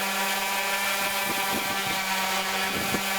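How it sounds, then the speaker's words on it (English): An electric power sander works 220 grit sandpaper across a wooden desk top, a loud, steady, continuous whirring drone with faint knocks and scuffs as the pad moves, close by and with no talking. "Another sand with some 220 grit."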